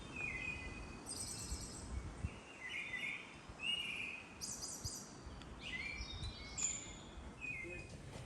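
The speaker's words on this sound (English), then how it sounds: "Oh, hearing quite a few birds." Several birds chirping and calling in short bursts in Costa Rica over a faint, steady outdoor background, fairly distant and quiet.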